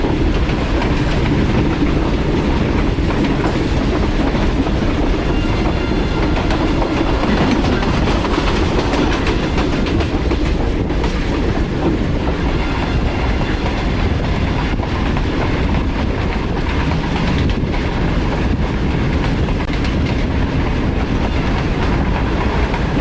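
Passenger train on the Lodhran to Karachi line, heard from inside a business class carriage: a steady, loud rumble of wheels on rails with a continuous rolling clatter throughout, no voices.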